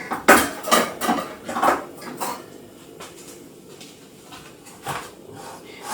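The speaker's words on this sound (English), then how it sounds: "I'll just move the cake onto this plate." Cake shifted onto a microwavable plate in a home kitchen, giving several clattering knocks of dish and utensil near the start, then lighter, sparser clinks and scrapes close by.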